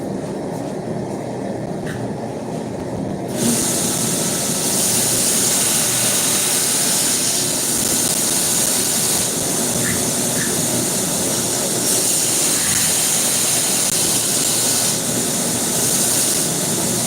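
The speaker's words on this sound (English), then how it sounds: "I'm going to do that real quick on the grinder." Bench grinder leveling an uneven knife handle during a frontier trade knife build, a steady loud broadband whir that starts quieter and jumps up after a few seconds, then runs continuously to the end with no talk.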